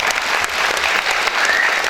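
A large audience at an Azerbaijani commemorative event for the army applauds loudly and continuously, a dense steady wash of clapping hands with no pause.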